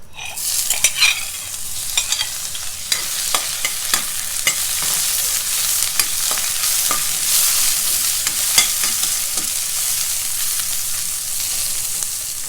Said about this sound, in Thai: เดี๋ยวพี่ว่าจะทอดเห็ดหอมกันเนาะ